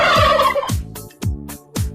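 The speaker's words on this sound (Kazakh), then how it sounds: "күрке тауық." Turkey gobbling: a loud, close, warbling gobble followed by a rapid series of four or five sharp, evenly spaced clucking bursts, heard alone without any talk.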